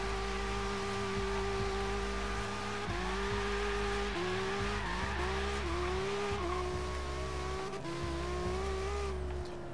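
A 2017 Acura NSX drifting in the Forza Horizon 3 racing game, its engine screaming at high revs with shifting pitch and continuous tire squeal, loud and steady throughout with no talking.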